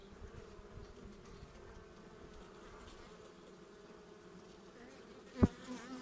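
Honeybees buzzing around their hives on the first opening after winter, already bringing in pollen: a steady, soft, close hum of many bees, with a sudden louder knock or bump near the end and no speech.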